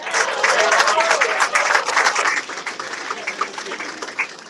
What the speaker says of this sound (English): Join me in giving a round of applause